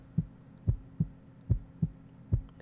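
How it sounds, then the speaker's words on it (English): Heartbeat sound effect in the visual novel Café Enchanté, a deep, muffled thumping repeating at a steady rhythm of about seven beats, close and alone over a faint hum. "Only the sound of my beating heart."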